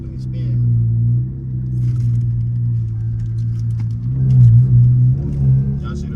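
Dodge Scat Pack muscle car idling with a deep, steady rumble that swells twice as the engine revs, a tire spin at night in the city, close and loud throughout.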